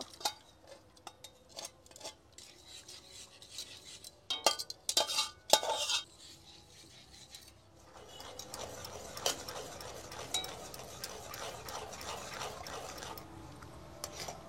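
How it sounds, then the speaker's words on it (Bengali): Milk is whisked into powdered jaggery for sandesh, first as scattered clinks and taps, then as a brisk, continuous close scraping and swishing of a utensil in the bowl, with no one speaking. "এই যে দুধ আর গুড় ভালো করে ফেটিয়ে নেব।"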